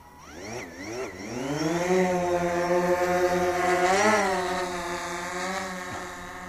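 A DJI Phantom 4 Pro quadcopter launches, its motors spinning up into a loud, close, whining buzz whose pitch sweeps upward and wavers before settling into a steady hover tone.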